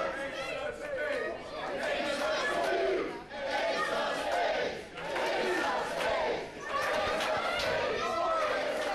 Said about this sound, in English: Crowd getting behind Scott Spade